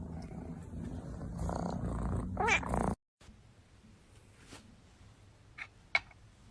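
A cat purrs steadily and close for about three seconds, then stops abruptly, leaving a quieter room with a few faint clicks and soft noises.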